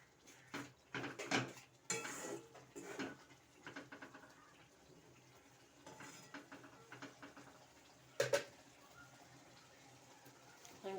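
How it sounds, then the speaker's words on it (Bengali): Spice paste (masala) being stirred and fried in a pan, with soft sizzling under intermittent scraping and clinks of a spoon against metal, one sharper knock late on. "মশলাটা এখন কষা হবে ভালো করে।"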